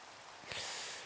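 Rain falling in the Minecraft SevTech: Ages modpack, a soft steady hiss that swells slightly midway. Faint and continuous.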